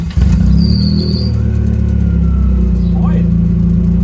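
A B16-swapped EF Honda Civic fires up through an open header exhaust, starting abruptly into a loud, raw, harmonically rich idle that runs steadily up close, with a slight blip around the middle.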